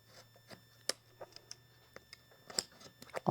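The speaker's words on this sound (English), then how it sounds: "now I'm just going to cut all the way around" Scissors cutting black lining fabric for an oven mitt, a series of soft, irregular snips and clicks close by in a quiet room.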